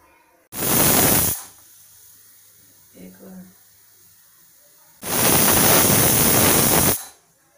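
Two loud bursts of hissing steam from a pressure cooker whistle while cooking arhar dal pulao, each about a second or two long, with a brief quiet murmur between them.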